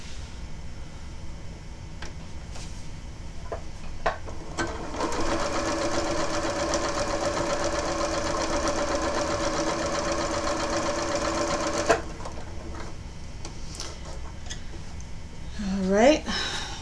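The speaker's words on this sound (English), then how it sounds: "So let's move over to the sewing machine." A sewing machine stitches quilt fabric in a steady, loud mechanical whir lasting several seconds. Quieter handling noises come before and after it, and a short squeaky rising sound closes the passage.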